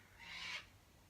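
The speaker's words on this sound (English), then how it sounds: "Sorry if you can hear the devil birds. We call them cockatoos" Cockatoos calling somewhere in Australia: a single harsh, rasping screech swells and fades within about half a second, fairly faint against a quiet background.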